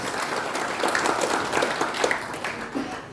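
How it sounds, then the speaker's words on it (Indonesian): A church congregation breaks into applause during a worship service, a full, continuous patter of many hands clapping at steady volume, swelling slightly midway before easing off. "Tepuk tangan buat Tuhan Yesus."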